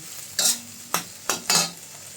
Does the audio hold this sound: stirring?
yes